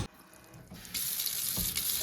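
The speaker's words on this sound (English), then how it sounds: "So we're just going to fill our pot here with hot" Hot tap water runs into a big pot at a kitchen sink for canning peaches, starting with a soft trickle and then becoming a fuller, steady rushing stream, close by.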